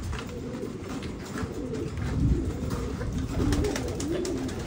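A mother pigeon coos repeatedly at her newly hatching chick, soft low rhythmic calls close by, steady and unhurried, with faint background noise throughout.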